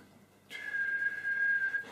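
Air blown through lips held in a whistling shape gives a breathy, steady whistle tone that starts abruptly and holds for over a second, close and clear, with no talk.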